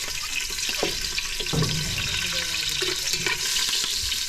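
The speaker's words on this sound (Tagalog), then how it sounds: "Magigisa na tayo mga kababayan" Onion and tomato sautéing in a pan while cooking sea mantis shrimp for dinner, a loud continuous sizzle with scattered clinks and stirring knocks, close to the mic.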